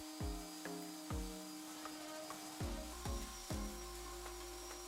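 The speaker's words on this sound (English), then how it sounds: "It does look like the sanding is helping though." Repeated scraping strokes of sanding on milk-painted wooden furniture, about eight rhythmic passes, close and steady with a low rumbling body.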